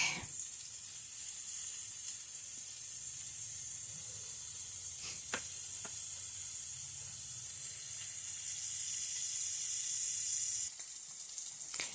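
Food cooks in a pan with a steady, moderate sizzle and hiss that runs throughout, broken by a few sharp clicks in the middle and a slight shift in tone near the end.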